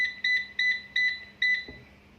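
An air fryer beeps four times in a quick, evenly spaced series of bright electronic tones as it is set, followed by a soft click, close and clear in a quiet room.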